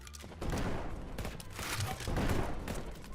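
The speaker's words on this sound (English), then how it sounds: "Yo, is that dude firing rockets at me?" Rockets fired in a Fortnite-style Roblox game, a continuous rumbling run of blasts and whooshes at moderate loudness, dense and without pauses, with no clear talk.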